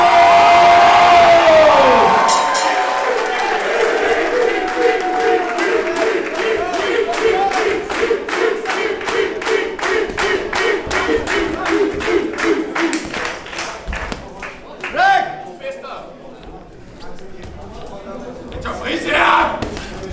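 A crowd at a boxing fight night cheers and claps before the final bout's first round, a loud, sustained roar with rhythmic clapping that thins out toward the end, while an announcer speaks over it.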